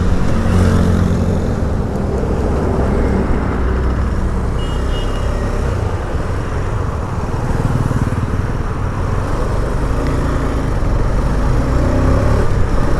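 KTM Adventure 250 motorcycle riding through a U-turn, a continuous close engine drone mixed with heavy wind rush, steady in level without clear gear changes.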